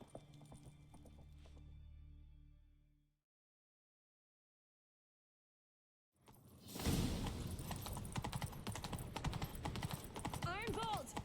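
Horse hooves pound at a gallop in a Witcher 3 video game, a dense, loud thudding rhythm that bursts in after a few seconds of quiet, following an earlier stretch of low music and ambience.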